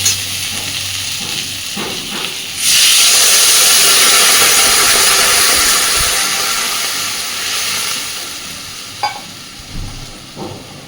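Water pours into a hot pan of fried vegetables for a thin fish curry, setting off a loud, sustained hiss and sizzle that slowly fades, followed by a few clinks.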